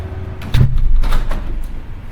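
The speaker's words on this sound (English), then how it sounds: "I think I'm gonna close the window actually." A window slides and thumps shut with a short scrape and knock, over steady low rumble from a garbage truck outside.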